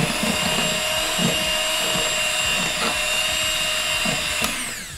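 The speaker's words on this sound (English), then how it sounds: "I'm just gonna stir this in with the mixer." An electric mixer stirs all-purpose flour into butter cookie dough, giving a steady, close motor whine with a rhythmic churning underneath that runs without a break.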